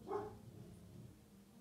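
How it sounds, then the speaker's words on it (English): A single faint dog bark somewhere in the distance, followed by quiet room ambience. "Don't mind the dogs barking."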